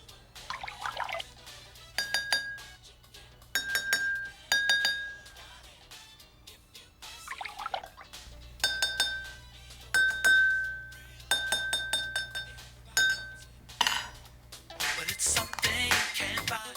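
Two water-tuned drinking glasses are struck repeatedly with light clinks, ringing at nearly the same pitch, with a low hum underneath and a splash of noise at the end.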